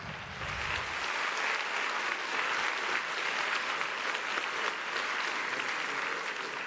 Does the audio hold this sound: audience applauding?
yes